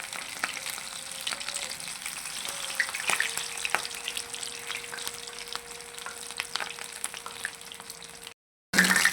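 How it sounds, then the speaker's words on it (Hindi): Popcorn chicken pieces fry in hot oil with a steady, fairly quiet sizzle and scattered crackles, alone, ending with a brief gap and a louder burst. "आपने इसको 2 से 3 मिनट से फ्राई करना हुआ।"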